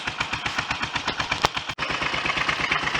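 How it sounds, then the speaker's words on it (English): A Triumph Trident triple ticks over at about 1000 RPM with its carburettor pilot passageway just cleared, a close, even, lumpy putter of rapid regular pulses with one brief dropout midway. "aim for a tick over just like this at 1000 RPM on the right"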